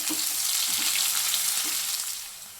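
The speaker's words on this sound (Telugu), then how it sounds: "ఈ ముక్కలు వేసేసుకున్నాను అలాగే రెండు పచ్చిమిర్చి వీటిని కూడా దొరగా ఫ్రై చేసుకోవాలి" Onion pieces and green chillies sizzle steadily in a hot pan, a close, continuous crackling fry that holds level and then eases slightly toward the end, with no talking.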